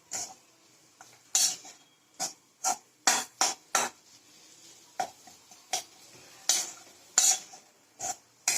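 Spoon scraping and clinking in a pan while jaggery and coconut are stirred over a low flame, a string of sharp, irregular metallic strokes close by, each followed by a softer drag, with no talking.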